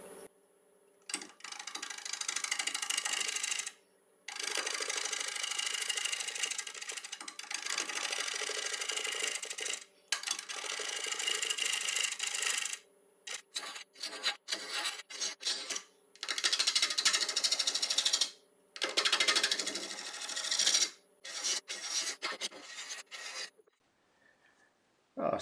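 A 5/8 inch ball gouge cuts split oak on a wood lathe spinning at 750 RPM, giving loud, close, rough scraping bursts of several seconds each, broken by short pauses as the tool lifts away.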